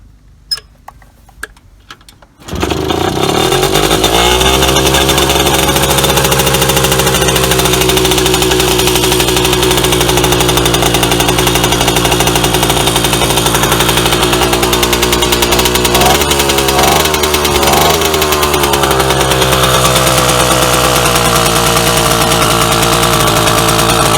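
A Motorynka M2 moped engine with a modified 023 carburetor setup starts after a few quiet seconds of handling, then runs steadily and loudly at a close, buzzing idle with small revving shifts.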